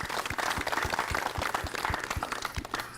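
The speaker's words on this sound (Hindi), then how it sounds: "तो जोरदार तालियों से अपना भी स्वागत कीजिए" An audience at a televised farmers' forum on natural farming claps heartily, a continuous roar of applause with rhythmic loud beats running through the whole stretch.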